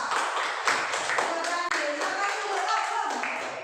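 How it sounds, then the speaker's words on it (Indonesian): Students in a classroom clap for a group after its presentation, a dense burst of many hands that stays fairly even for several seconds, with some voices mixed in underneath. "kita beri tepuk tangan untuk kelompok 2"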